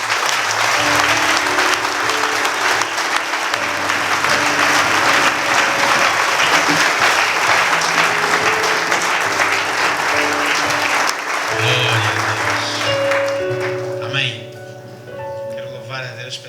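Church congregation applauding for about sixteen seconds, a loud steady wash of clapping, with music playing underneath and a voice speaking over it near the end.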